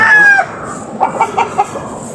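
A rooster's crow trails off, followed by several short, sharp clucks from chickens close by; no talking.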